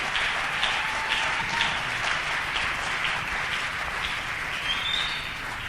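Church congregation applauding, a steady wash of many hands clapping for several seconds, moderately loud and fairly even.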